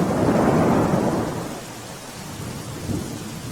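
Heavy monsoon downpour over Ahmedabad, Gujarat, with a steady dense roar of rain and a deep rumble of thunder that is loudest at the start and then eases to a continuous wash.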